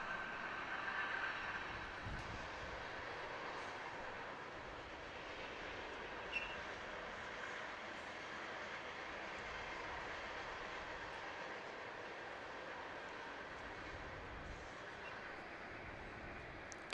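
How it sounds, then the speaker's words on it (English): A train rumbles past near a high school softball field, a long, steady, fairly distant roar of rolling rail cars that holds at an even level throughout, with a faint clank partway. "As the train decides to roll by at 5 o'clock sharp."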